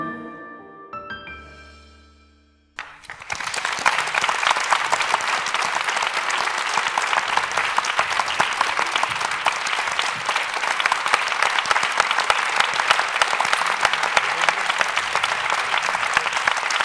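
An audience at a debate on resistance bursts into loud, sustained applause for young people after a musical ending fades, with dense steady clapping filling the hall for over ten seconds.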